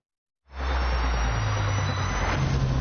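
A car engine starts abruptly after a moment of silence, then a loud, steady motor roar carries on close by as the vehicle gets away.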